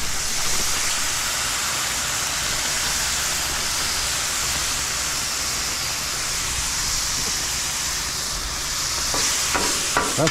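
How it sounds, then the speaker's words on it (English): Two pounds of deer meat and chicken fry in a pan with a loud, steady, hissing sizzle that goes on throughout, close up and without talk. "That's sizzling up nice."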